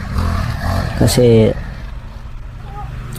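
Bush cutter engine running during grass cutting, a continuous close motor drone with a louder surge near the start and a voice briefly over it.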